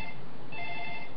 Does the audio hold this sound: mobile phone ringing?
yes